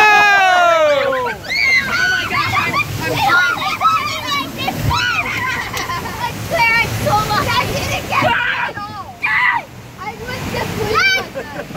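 Water splashes and sloshes steadily around a raft on the Kali River Rapids ride at Disney's Animal Kingdom. Excited children and adults shout and talk loudly over it the whole time.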